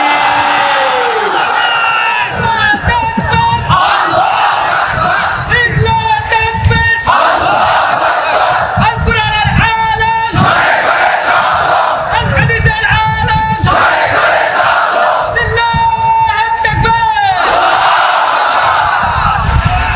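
A large crowd at an open-air Islamic sermon shouts takbir in answer to the preacher: repeated loud, unified chanted calls roughly every two to three seconds, alternating with the preacher's amplified voice, echoing through the gathering.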